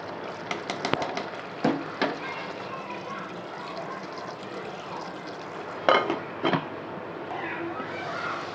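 Tomatoes fried with garam masala, turmeric and salt in oil sizzle softly while a spoon scrapes and clacks against the pan in scattered strokes, two sharper knocks standing out, beneath a person talking.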